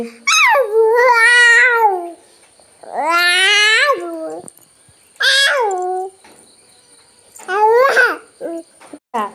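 A ten-month-old baby imitates a cat's meow, giving four drawn-out, wavering meow-like cries separated by short silences, close and clear with no other voices.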